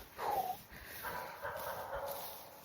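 A farm dog at night, having cornered a skunk, lets out a few short yips and whimpering barks that sound somewhat distant and faint over quiet outdoor background noise.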